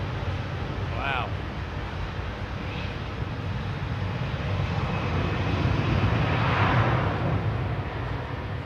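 A Hi Fly airliner departs the runway with a broad, steady roar that builds slightly louder toward the end. It is heard from a distance with wind buffeting the microphone.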